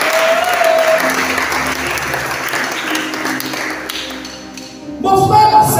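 A church congregation applauding, a loud sustained roar of clapping and cheering that dips slightly then swells again near the end, with voices mixed in.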